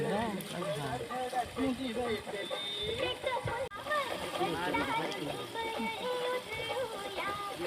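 Borewell water gushing and splashing steadily in a farm field, a loud continuous rushing splash throughout with people talking over it.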